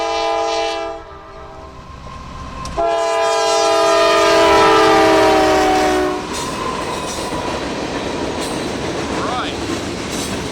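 A 16T freight train passes at night, its horn blaring in two long loud blasts, then the steady rumble and rolling clatter of the cars continues close by.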